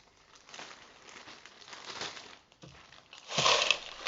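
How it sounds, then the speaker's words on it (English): Ice tipped from tubs into large plastic bags gives scattered crinkling and rattling, with soft bursts of crackle and a louder clattering rush near the end, fairly close and without voices. "So we're going to pour the ice into the large plastic bags."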